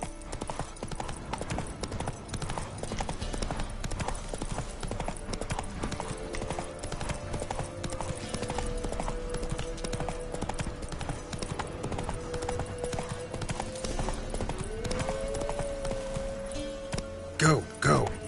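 Roach, Geralt's horse in The Witcher 3, gallops at length with a continuous rhythmic drumming of hooves, a tonal musical score humming beneath and a few sharper thumps near the end.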